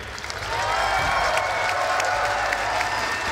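An esports event audience breaks into sustained applause that swells quickly and holds steady, with a few faint cheers mixed in.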